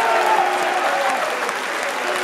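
A stadium crowd applauds steadily after a goal by Pogoń Siedlce against Motor Lublin, with dense, continuous clapping and a faint murmur of voices beneath.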